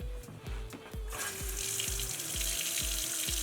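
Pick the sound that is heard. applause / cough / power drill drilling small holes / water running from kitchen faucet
water running from kitchen faucet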